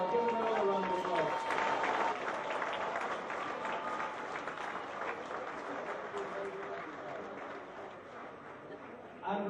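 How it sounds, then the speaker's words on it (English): A room full of people applauds award winners at a community awards evening, a dense continuous patter of clapping with voices talking over it, fading slightly before a final swell. "Give them another round of applause."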